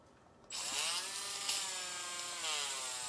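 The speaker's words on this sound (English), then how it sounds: "What I have here is the Andis nail grinder." An Andis cordless nail grinder running at low speed on a long-haired dog's nails, a steady high whine that starts abruptly and holds close and loud, its pitch dipping slightly as it meets the nail.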